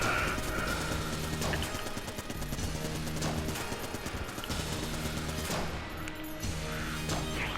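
Gunfire from the video game Enter the Gungeon, with dense overlapping bursts of rapid shots and sharp crashes, loud and nearly continuous across the stretch, with no talk over it.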